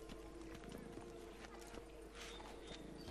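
In a video game, The Witcher 3: Blood and Wine, hooves clop in an uneven rhythm as a horse tries to climb stairs, with a brief whinny and a voice talking in the background.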